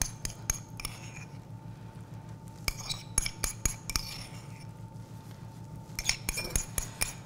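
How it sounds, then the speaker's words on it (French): Butter, 90 g at room temperature, going into a mixing bowl while making cookies, heard as light clinks and taps of utensils against the bowl in a quiet kitchen. "on va mettre le beurre dans le saladier"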